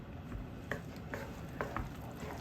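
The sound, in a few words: stirring parsley and lemon zest into garlic shrimp orzo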